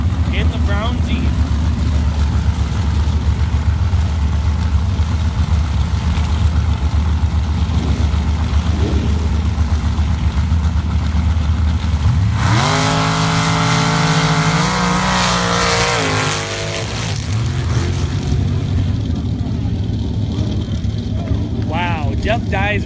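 A small black Chevy-powered V8 buggy and a brown Jeep drag race. A loud, continuous engine drone builds into a roaring launch with rising revs midway, then eases back to a rumble, with an announcer talking over it.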